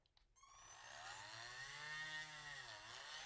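A small power drill whirs steadily as it bores into the plastic ankle of a Mezco action figure where the peg broke off, a sustained whining tone that rises after a brief start, heard close and alone.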